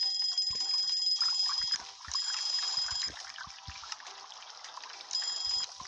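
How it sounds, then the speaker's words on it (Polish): Customer bells in the restaurant cooking game Papa's Cluckeria To Go ring out in bursts of bright, sustained high ringing, three times over a busy clatter of game sounds. "Dzwonki z dwóch stron się uruchomiły."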